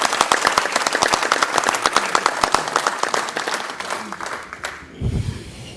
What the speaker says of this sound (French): Donc je pense qu'on peut applaudir